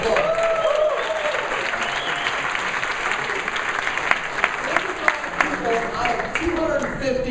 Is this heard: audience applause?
yes